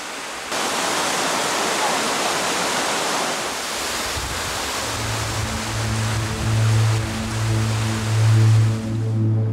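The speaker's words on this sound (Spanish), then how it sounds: "las ardientes cascadas que desde tiempos inmemoriales fluyen por los riscos de Jermuk" Hot waterfalls pouring down the cliffs of Jermuk, Armenia, a loud, steady broadband rush of falling water, later joined by a low droning tone underneath.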